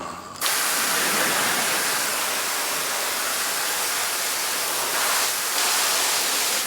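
Garden hose spraying water across a home garden, a steady loud broadband hiss that starts abruptly and runs continuously, with a brief dip near the end.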